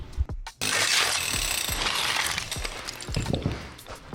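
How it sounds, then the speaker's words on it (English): Power hammer breaking through a concrete block wall in a workshop, a dense continuous rattling hammer roar with gritty crumbling and scattered chunks falling, loud and close after a brief clatter at the start. "give this man a power hammer and leave him for a full day, he can get any wall demolished"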